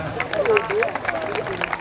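Schoolchildren at a junior Islamic secondary school in Pontianak break into brief, lively applause, with a dense patter of many small hands mixed with excited young voices and chatter.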